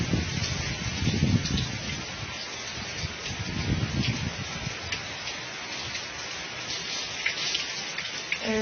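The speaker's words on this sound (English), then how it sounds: "A little rainy, not too much wind." Light, steady rain falls outdoors in Orlando during a hurricane, with little wind, as a continuous soft patter with a few heavier gusts of noise.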